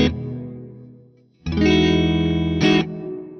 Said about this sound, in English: The reverb sounds wonderful in this plugin.